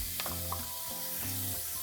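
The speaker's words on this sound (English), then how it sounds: "We're going to saute our onion for a couple minutes." Continuous loud sizzling of chopped onion sautéing in oil in a hot frying pan, with a faint background tone and a few light stirring sounds.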